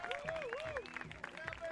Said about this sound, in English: A big ovation here from the home crowd.